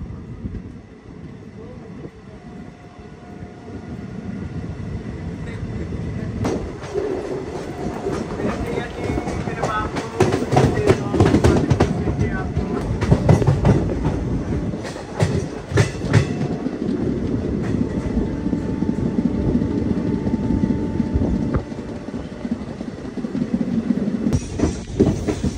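Salsar Express passenger train running from Delhi toward Jodhpur at cruising speed, about 108 km/h: a loud, steady rumble and rattle with rhythmic clickety-clack of the wheels on the rails and occasional sharper bursts.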